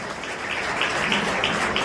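An audience claps steadily for a team at an Indian Medical Association Kala Darpan festival prize-giving ceremony, a dense, even wash of applause that holds at the same level throughout.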